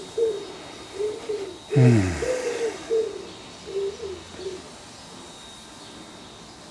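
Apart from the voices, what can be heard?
pigeon cooing in a tree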